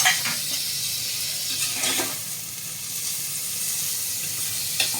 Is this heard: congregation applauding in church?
no